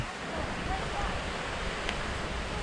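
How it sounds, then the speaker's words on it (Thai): Huay Kaew waterfall on a Doi Suthep mountain trail gives a steady, broad rush of falling water, close and even throughout, with no voices over it. "มาโผล่ตรง น้ำตกห้วยแก้วนะครับ ตรงนี้นะครับ"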